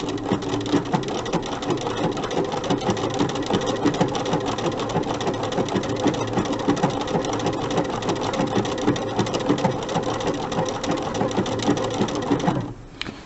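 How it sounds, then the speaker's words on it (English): Sewing machine running steadily and loudly for over twelve seconds, stitching straight then buttonhole stitches around a snowman applique, with a rapid even needle rhythm that stops abruptly at the end. "I'm going to take just a few straight stitches, about 5 or 6, and then I'm going to switch to my buttonhole stitch"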